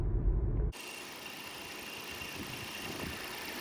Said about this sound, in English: It's a GTI engine with a DSG